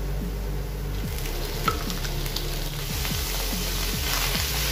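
Tuna and potato frying together in a pan, with a steady hiss of sizzling oil and recurring low scrapes and thumps from stirring, close and continuous, with no talking.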